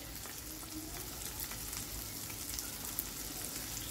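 Spices and tomato fry in oil for a bitter gourd (karela) dish, giving a soft, steady sizzle with faint crackles and occasional light stirring taps.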